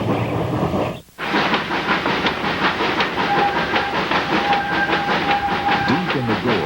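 Steam locomotive Number 11 of the ET&WNC narrow-gauge railroad labouring up a 4% grade through sharp curves, steady chuffing exhaust with hiss and rolling rail clatter, loud and continuous, a whistle-like tone briefly sounding.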